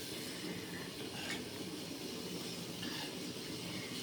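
A pot of fish moilee curry bubbles and simmers steadily at close range, a soft continuous hiss with small popping bursts and no talking.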